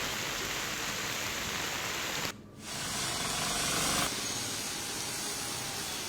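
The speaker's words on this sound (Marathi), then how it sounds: "कल्याण, डोंबिवली परिसरात पावसाचा जोर पाहायला मिळतोय" Heavy rain falls in Kalyan during a stormy downpour, a dense, loud, continuous hiss that drops out briefly midway before returning at full strength.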